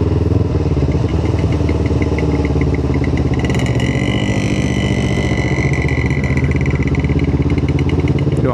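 A two-stroke 125 cc motorcycle's exhaust crackles loud and close, a dense, raspy buzzing idle that rises into a brief revving whine midway before settling back, running without pause throughout.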